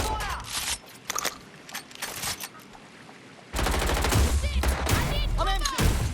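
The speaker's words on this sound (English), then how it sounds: "Taking fire." Gunfire in the Watch Dogs Legion video game: sporadic shots and short bursts for the first few seconds, then a sustained, loud barrage of rapid automatic fire with a voice faintly mixed in.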